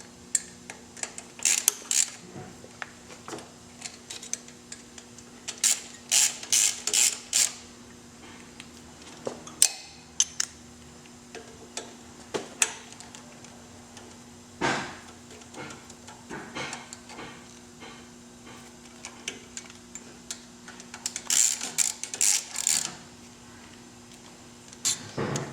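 Ratchet tightening bolts during a torque tube install on a steel-frame Victory motorcycle, producing repeated bursts of quick metallic clicking with pauses between, close and fairly loud over a faint steady hum.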